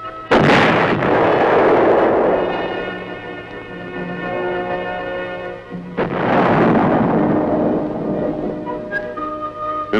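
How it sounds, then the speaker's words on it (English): Large tank gun firing twice during armored vehicle testing, each a loud booming muzzle blast followed by a long rumbling echo that fades, with the second shot about six seconds after the first. "With a gun as large as this, muzzle blast is a potential source of damage and a hazard to the crew"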